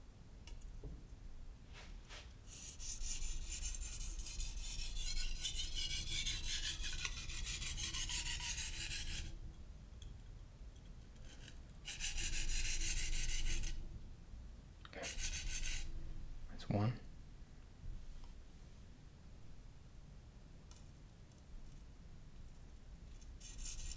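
A knife blade rasps across a sharpening stone in long strokes, with several bursts of steady grinding separated by pauses, close and fairly loud with no talk.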